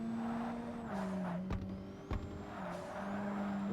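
Mid-engine Toyota MR2 race car in Forza Motorsport: a steady engine drone with tire scrub, broken by two sharp exhaust backfire pops close together in the middle, with no talking.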